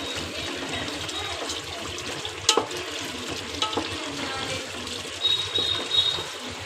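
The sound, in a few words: water poured into dal frying in spices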